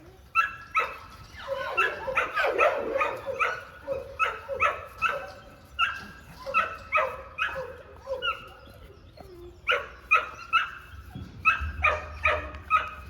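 Several American Pit Bull Terriers and American Sentinels bark repeatedly in a yard, sharp barks coming in quick bursts with brief pauses and a whimper or yip mixed in, fairly close and loud, with no talk over them.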